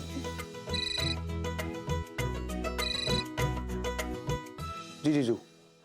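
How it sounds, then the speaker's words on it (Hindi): A phone ringtone plays a loud, steady electronic melody of repeated tones during an indoor scene in a Hindi TV drama, ending with a short rising warble. "फोन।"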